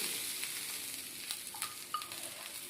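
Green chillies, washed and split in two, frying in hot oil for a coconut and raw mango chutney, giving a quiet, steady hiss with a few faint pops and crackles near the end.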